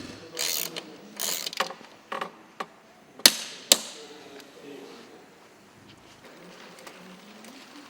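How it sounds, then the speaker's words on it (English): A torque wrench tightens the self-extracting crank bolt of a carbon road FSA MegaExo crankset, using an 8 mm Allen key. Separate mechanical clicks and ratcheting ticks come close up, with two sharper clicks in the middle and quieter shuffling between them. "Thread self-extracting bolt into spindle and tighten using a torque wrench and 8 mm Allen key."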